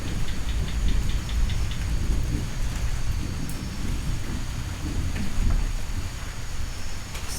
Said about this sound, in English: Begin to slowly welcome the sounds of the thunder and the chorus of tree frogs.